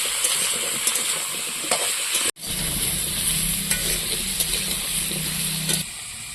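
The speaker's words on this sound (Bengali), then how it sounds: "কুমড়োটা দেখুন কত সুন্দর করে ভেজে নিয়েছি আর একটু সিদ্ধও হয়ে গেছে" Pumpkin pieces fry in a pan with cumin seeds, giving a close, steady sizzle. A spatula scrapes and stirs through it in repeated strokes.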